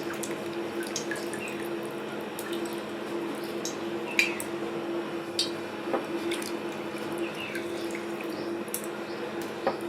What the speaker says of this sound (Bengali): এইভাবে চিপে চিপে জলটাকে